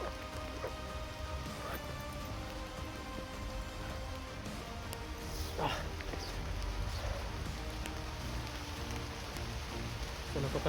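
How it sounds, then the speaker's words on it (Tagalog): Heavy rain pours down in a steady, dense hiss and patter on surfaces, loud and continuous, with faint sounds underneath. "So napakalakas po ng ulan ngayon mga idol"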